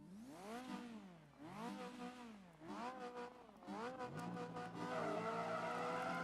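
A Ferrari F40 in the racing game Project Gotham Racing 3 screams through repeated rising engine revs, climbing and dropping with each gear shift before settling into a sustained high-pitched roar, loud and close with no talking.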